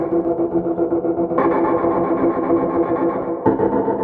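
A sustained synth tone washes out with a spacious reverb tail, shifting texture partway through as the effect blooms and swells.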